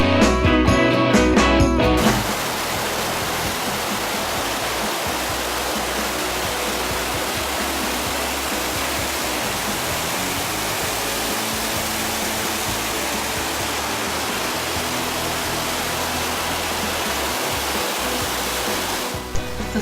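Deception Falls beside Stevens Pass Highway roaring in a constant, loud wash of falling water that runs unbroken for the whole stretch after a brief rough opening.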